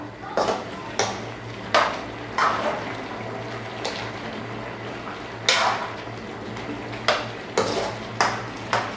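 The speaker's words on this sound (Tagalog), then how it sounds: "Halo ko yung iba pa mga ingredients and kung makikita nyo malambot na talaga yung kalabasa" A spoon stirring squash and chicken simmering in coconut milk in a pot, giving a handful of separate scraping and clinking strokes, fairly close and moderately quiet, with low background noise between them.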